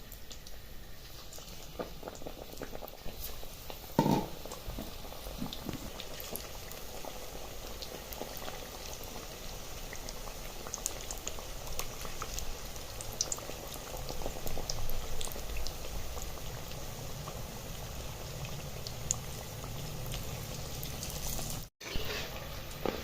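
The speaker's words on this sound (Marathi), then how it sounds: "अशाच पद्धतीने आपण दुसरी बॅच सुद्धा तळून घेणार आहोत" A batch of potato bhaji (batata bhaje) deep frying in oil, giving a constant bubbling seethe, close and fairly quiet, with a few brief clatters from the pan along the way.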